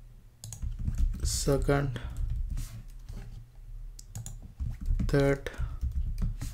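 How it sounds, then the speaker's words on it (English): Quick, uneven bursts of key clicks come from a computer keyboard at close range as someone types a few words, with a voice talking over part of the clatter. "now I'm gonna just type first, second, third"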